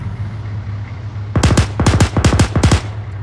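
Bursts of gunfire in the military shooter ArmA 3, four or five rapid volleys of sharp shots at a moderate distance over a steady low hum, after a quiet stretch.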